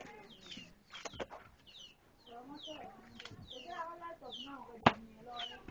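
Chickens cluck and chatter in a yard behind a house in Ghana, a series of short irregular calls close by, with people talking over them and one sharp knock near the end.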